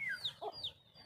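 Aseel chickens on a poultry farm give a short burst of soft clucks and higher chirping calls, close and fairly quiet, lasting about a second.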